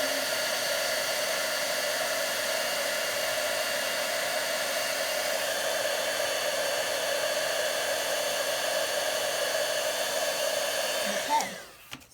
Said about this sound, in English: Okay, this is called heat embossing.